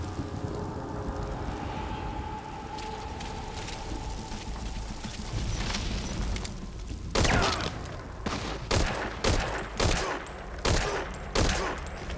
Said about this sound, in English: Gunfire. No fix on the position.